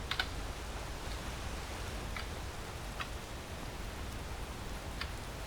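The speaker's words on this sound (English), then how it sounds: "Whoop, I think it might be raining." Steady rain falls in the video game Skyrim as a soft, even hiss throughout, with a few faint scattered ticks and taps over the wash and no voices.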